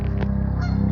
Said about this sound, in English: ducks are making noise